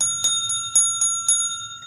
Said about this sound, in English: Hit the bell notification so you get the new videos.